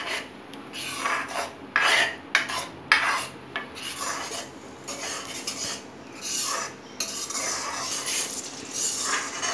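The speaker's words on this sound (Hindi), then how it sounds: "अब मैं मसाले को भून लूंगी धीमी आंच पे, बहुत तेज आंच पे नहीं।" Spice masala roasting on a low flame while a spoon stirs and scrapes it in the pan, a steady rasping scrape in uneven strokes, close and without speech.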